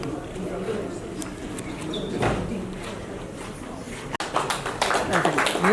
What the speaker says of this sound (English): a round of applause for the presidential address that we just heard